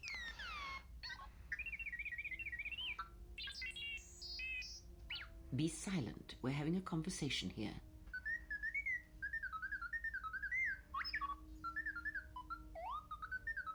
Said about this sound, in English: another beep out of you and you're scrap